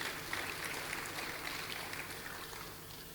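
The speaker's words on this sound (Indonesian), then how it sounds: "Tepuk tangan buat Tuhan Yesus." Steady, moderately faint applause from a church congregation at an Indonesian worship service, an even wash of clapping with no voices over it.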